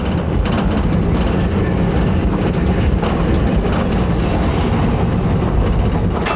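A vintage MTV-82 tram rolls with a loud, steady rumble and rhythmic clatter, and a brief high-pitched brake squeal rises partway through as it slows.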